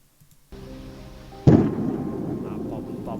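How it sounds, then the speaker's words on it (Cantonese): A single firework goes off in the middle of the night: one sharp, loud boom that rolls into a lingering rumble after a quieter stretch of steady background hum. "就放煙花喎，去凌晨4點放煙花"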